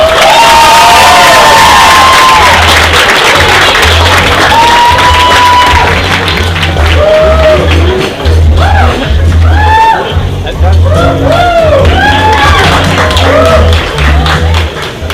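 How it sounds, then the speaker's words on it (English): A large audience at a media awards ceremony cheers and applauds loudly and continuously, with whoops and shouts rising over a steady roar of clapping throughout. "I never get this applause the week before final exams, but it's great to hear it now."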